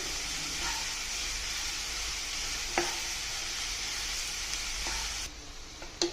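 Onion samosa filling with coriander powder and salt fries in a pan, giving a steady loud sizzle and hiss. A spatula scrapes and knocks now and then as it is stirred, with no voices.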